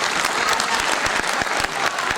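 Loud, dense audience applause at the Rasrang Mahotsav 2023 cultural festival, a continuous crowd of hands clapping close by with a few sharper individual claps standing out.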